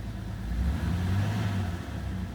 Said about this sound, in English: Gotta hear it misfiring.